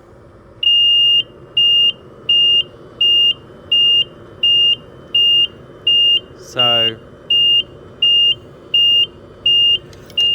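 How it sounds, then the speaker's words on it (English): A German C-0467 PAPR respirator unit on speed 2 gives its low-battery warning, a high beep repeating at a steady, even rhythm about every half second, loud and close, with a brief spoken word partway through. "the red light on the unit is beeping, flashing, sorry, as well as the beeper"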